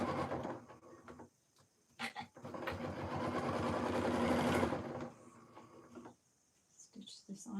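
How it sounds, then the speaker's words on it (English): A sewing machine stitching quilt block pieces runs in short bursts, loud and close, with its whirring motor and rapid needle rhythm, then pauses between runs. "Stitch this on here, making sure my top and bottom line up okay."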